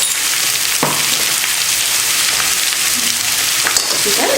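Onion, tomato and bottle gourd sauté in a pan with a steady, loud, close sizzle that holds throughout, broken by a few soft stirring knocks and no voices.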